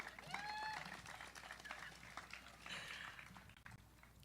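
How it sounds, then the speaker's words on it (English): Graduation audience applause, a broad wash of clapping from a crowd heard at a distance, moderately faint, with a few voices and cheers mixed in. "Yeah, you can clap."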